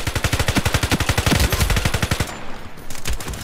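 A PP-90 submachine gun fires without its silencer in the shooter game Iron Sight, a fast, loud, sharply rhythmic automatic burst lasting over two seconds, then a brief pause and a few more shots.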